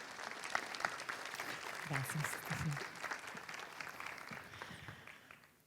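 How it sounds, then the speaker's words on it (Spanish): Audience applause at a science talk in Spanish with an astronomer, a steady wash of many hands clapping throughout, with a host briefly speaking over it before it tapers off. "Un aplauso para ella."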